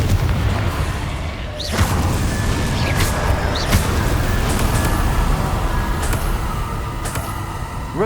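Confringo fire spell blasts in a video game: a steady, loud broadband roar of battle noise, punctuated by several sharp explosive bursts spread across the clip, with no voices.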